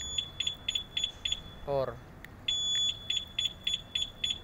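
A GPS tracker alarm on a keyless Yamaha NMAX V2 ABS scooter gives a series of short, sharp, evenly spaced electronic beeps in small groups, with someone speaking briefly between them.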